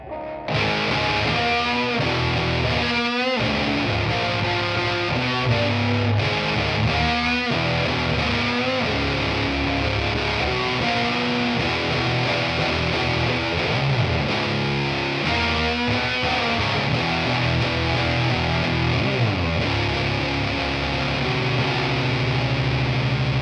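Electric guitar played through a distortion pedal with distortion at maximum and filter at its lowest, a dense, saturated wall of notes and chords that rings continuously for over twenty seconds with no talking.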